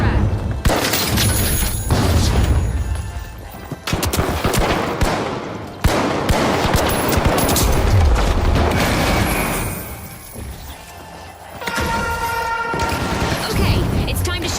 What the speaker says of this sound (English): Frag grenade out! Launching frag.